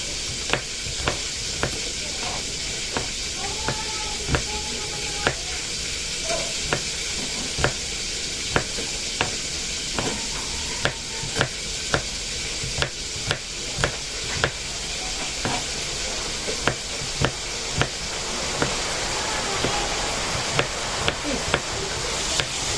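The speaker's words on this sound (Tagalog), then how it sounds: "ito naman pong bawang ang ating hiwain" Garlic being chopped on a cutting board for a Filipino sarciadong isda breakfast, a steady series of sharp knife taps over a sizzling, hissing background from cooking nearby.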